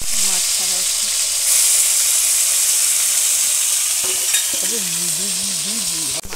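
Fish curry cooks in a hot pan with a loud, continuous sizzle and hiss close up, while people talk intermittently over it.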